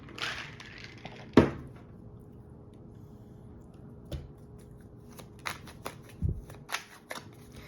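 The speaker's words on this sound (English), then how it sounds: "Give these a good shuffle." Quiet riffling and soft snaps of tarot cards being shuffled close by, with a few sharper clicks scattered through a near-silent background.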